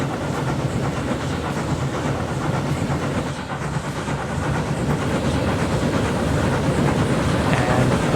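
A train passes in the Transport Fever 2 video game, heard as a steady, dense rumble with faint clattering that runs through the whole stretch and grows slightly louder toward the end.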